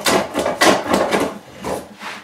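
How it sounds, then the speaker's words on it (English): A hand plane takes repeated rasping strokes across a knotty board for a rustic, collapsible Viking-style high seat, the scraping passes close and fairly loud in a quick uneven rhythm. "mostly because this ugly knot here is no fun planing"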